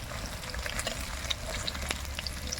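Snakehead fish pieces fry in a hot pan, a steady close crackle and sizzle with occasional sharp pops throughout, no voices.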